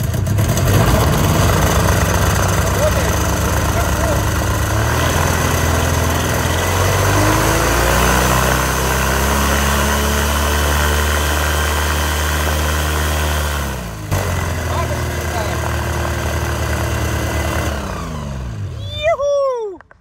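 The engine of a DG 500 M motor glider runs steadily, its droning pitch rising and falling through a run-up toward full revs, then cutting out near the end as a few sharp squeaks follow.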